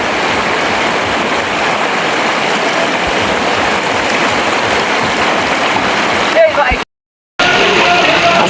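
Cold waterfall water at Devota Khum pours in a steady, loud broadband rush that fills the whole clip, with a brief cut-out near the end before the flow resumes.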